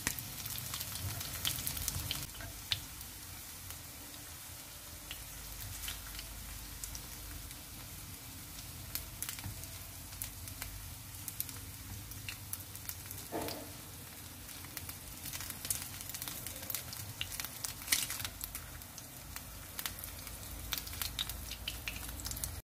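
Sea shrimp cakes frying in hot oil, a steady close sizzle and crackle running throughout with a few brief louder pops, no talking.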